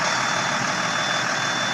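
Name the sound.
truck engine restarting and idling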